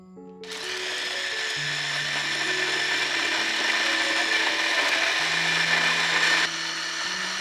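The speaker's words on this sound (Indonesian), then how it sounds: "Selanjutnya chop semua bahan ini sampai halus." A small electric food chopper whirs loudly and steadily for several seconds, grinding ingredients with pepper powder until smooth without a break before cutting off near the end.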